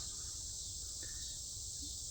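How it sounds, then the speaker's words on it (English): Cicadas in a forest preserve in summer make a constant high, dense buzzing drone that holds steady throughout, with a faint rustle underneath and no talk. "Gotta love the cicadas, man."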